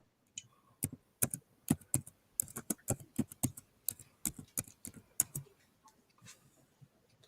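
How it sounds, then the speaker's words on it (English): Computer keyboard typing, a close series of crisp key clicks coming in quick irregular bursts with short pauses between them, heard alone without talk and trailing off toward the end. "I hear the keyboard."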